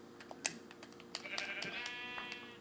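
Sheep in the video game Minecraft bleat in a single drawn-out wavering call, heard alongside sharp clicks of rapid keyboard typing close by.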